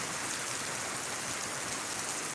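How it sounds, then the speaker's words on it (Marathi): Heavy rain falls in Bidkin, a steady dense hiss of downpour without pause, moderately loud and even, with no voices. "त्या पावसाला आज बिडकीनमध्ये जोरदार सुरुवात झालेली आहे"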